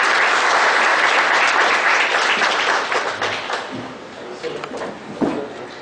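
Audience applause at a one-day GST seminar, a dense, steady wash of clapping that holds strong for several seconds and then thins and tapers toward the end.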